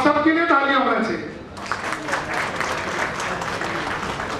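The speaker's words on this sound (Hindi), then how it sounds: "तो आप सबके लिए तालियां होना चाहिए।" Applause from the audience at a regional NGO conference in Mumbai begins after a voice and rises into steady, close, fairly loud clapping that continues to the end.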